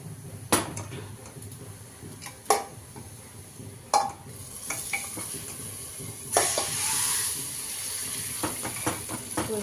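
Lentils sizzle and crackle in hot oil as a tempering, with a few sharp clinks of a spoon against the pan and a hissing burst partway through.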